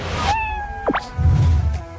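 A cat gives one clear, rising and falling meow up close, followed by soft rustling and handling noises, with no voices.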